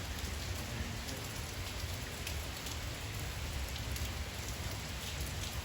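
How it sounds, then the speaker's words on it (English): Heavy tropical rain in Honduras pours down in a dense, continuous hiss with scattered drops pattering on nearby surfaces, steady and loud throughout with no voices. "it's raining a lot"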